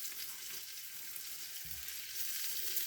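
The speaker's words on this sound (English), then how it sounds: "I want that bacon to get just a tad on the crispy side" Bacon and a little garlic sizzle in a pot as the base for New England clam chowder, a soft, steady frying hiss heard alone and fairly faint, with a brief low stir partway through.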